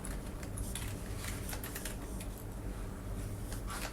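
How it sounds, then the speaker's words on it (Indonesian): Quiet, rapid tapping of keys on a computer keyboard as a search term is entered into a Microsoft Access form, a continuous run of soft clicks at uneven intervals with no voices. "Maka di sini kita ketik"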